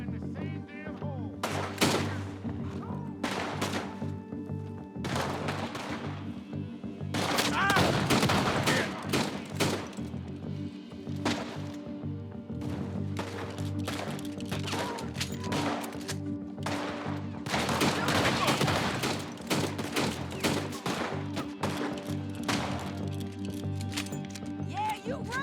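Gunfire shootout in Red Dead Redemption 2, rapid bursts of shots and heavy volleys over a constant game music bed, with horse hooves and character dialogue mixed in, loud and dense throughout.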